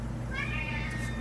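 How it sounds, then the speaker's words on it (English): A house cat meowing to be let back indoors, a single soft, drawn-out meow heard faintly over a low background hum, with no one speaking. "That's my cat wants to get back in the house"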